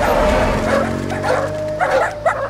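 Several cartoon dogs bark in quick repeated bursts close by, loud and yappy over a backdrop of animated-series sound.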